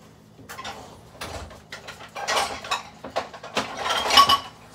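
Chopped onion tossed into a pan on the stove to sauté for a chicken pot pie, giving a run of close clinks and clatters of food and utensils against the pan that build in loudness.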